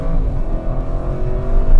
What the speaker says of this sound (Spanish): vamos a hacer como siempre una pequeña prueba de aceleración